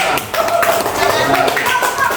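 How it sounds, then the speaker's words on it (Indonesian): Schoolchildren in a fourth-grade classroom clap together in a quick, busy patter, with a voice talking over them throughout. "tepuk tangan buat Reva"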